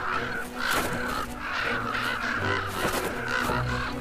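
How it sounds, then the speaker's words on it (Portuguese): Crows gathered at a carcass in the far northern wilds, cawing repeatedly in loud overlapping harsh calls over constant outdoor noise. "Os corvos defendem o seu alimento."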